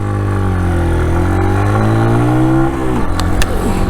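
A Brixton 125 motorcycle, a 2021 Euro5 Sunray or Rayburn, pulls away with a steady rising engine note that climbs through the revs, then dips as the rider shifts gear near the end. It is close and continuous, with no talk.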